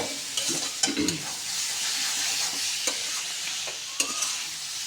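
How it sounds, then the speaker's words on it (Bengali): Fig and potato pieces frying with spices in a wok for a Bengali-style dish: a steady soft sizzle broken by repeated scraping stirs of a spatula, close by and fairly quiet. "ডুমুরটা আর আলুটা খুব সুন্দর মতো মশলার সাথে কষানো হয়ে গিয়েছে"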